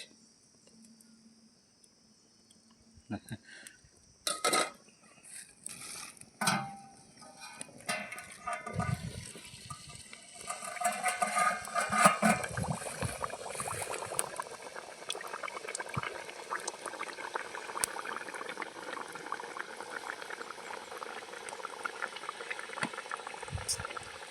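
Palm fruit rotis fry in hot oil. A few scattered pops and knocks give way to a dense, continuous crackling sizzle that builds from about ten seconds and stays steady to the end.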